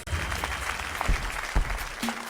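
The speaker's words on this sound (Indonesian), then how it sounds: "Mari kita sambut dengan tepuk tangan meriah." Applause from an audience at a school event before a piano performance, several uneven bursts of clapping over roughly two seconds, moderately loud, with no voices on top.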